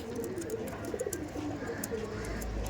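A breeding pair of Lal China pigeons, male and female, gives soft, low coos in short bursts close by, with a constant ambient hum underneath and no voices.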